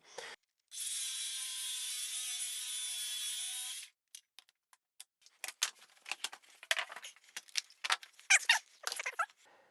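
A circular saw makes a single cut of about three seconds through a wood board for a track saw guide, a loud steady whine, followed by scattered light clicks and knocks as the pieces are handled.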